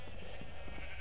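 Sheep on a Minecraft sheep farm give a brief, nasal bleat, heard close over a steady background hum.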